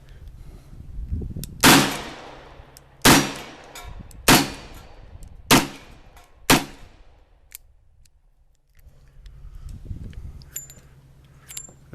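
Five loud, sharp gunshots from a 1917 revolver firing 230 grain .45 ACP rounds, spaced about a second apart and each ringing out briefly, followed by faint handling noise.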